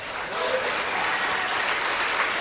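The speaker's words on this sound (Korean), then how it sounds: "이건 트럼프 후보가 말했을 때보다 그다지 강렬하게 응원하진 않았지만 박수 소리가 나오기는 했습니다" An audience at a political rally breaks into applause, a dense clapping wash that builds quickly and holds steady at moderate volume for a couple of seconds.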